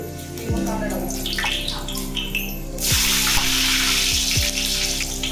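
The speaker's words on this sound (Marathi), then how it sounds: "आता कांदा टाकू." Onion added to a hot pan for chicken biryani, with an abrupt surge of loud, steady sizzling and frying that continues to the end, a few clanks and background voices around it.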